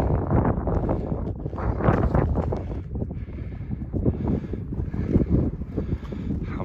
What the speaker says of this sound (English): I'm not sure how windy it'll sound for you.